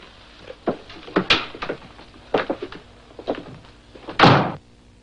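A door is answered, opened and later closed: a string of wooden knocks, thumps and handling clatter, ending in a louder, fuller thud as it shuts, close by with no talk.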